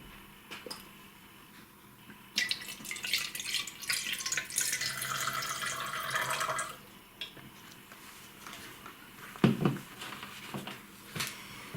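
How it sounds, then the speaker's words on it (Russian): Water pours and splashes steadily for several seconds into an orchid pot, close by, then tapers off into a few drips and small knocks. "Эту орхидею, как мы договорились, я наливаю воду."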